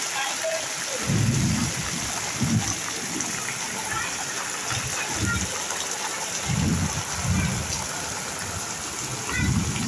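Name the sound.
heavy rain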